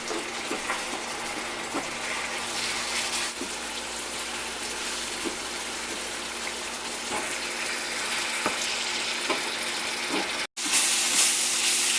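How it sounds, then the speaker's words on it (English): Steady, dense sizzling hiss of meat frying in a hot pan, continuous and close, with faint clinks and a brief cutout near the end. "Got a nice sizzle."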